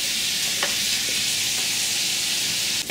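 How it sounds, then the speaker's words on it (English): Bacon fries and crisps in a pan as a loud, steady sizzle, close and continuous, with a few faint scrapes of stirring and no speech. "Put this bacon in here. We want to start crisping that up a little bit."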